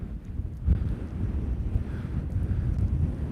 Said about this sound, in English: You could probably hear that wind being filtered through the windscreen pop filter here.